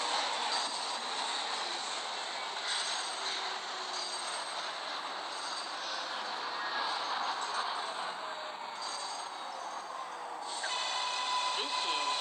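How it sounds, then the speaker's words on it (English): R188 subway train on the 7 line arriving at a station in the Hmmsim 2 game, a continuous hissing rumble of wheels with high squealing, steady and fairly loud throughout. "The next 7 train to Flushing Main Street is now arriving."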